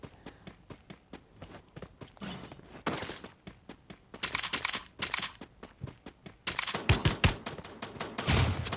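M60 machine gun fire in a video game: repeated rapid bursts and scattered single shots, loud and close, with short pauses between volleys and intensity building toward the end.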